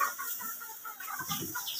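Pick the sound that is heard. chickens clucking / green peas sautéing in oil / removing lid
chickens clucking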